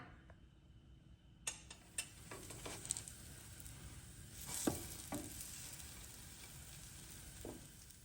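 French toast cooking in a pan until golden brown, a quiet steady sizzle with a few light taps and clicks scattered throughout, no talking.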